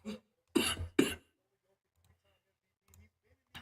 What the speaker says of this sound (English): especially with this cough